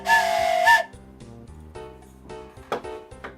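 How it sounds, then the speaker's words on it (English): Train whistle from the video game OpenTTD: a short, loud, tonal whistle blast, followed by quieter game music and a few soft chimes. "there's also a train whistle with Master Hellish, and it also says train whistle with a little train on it"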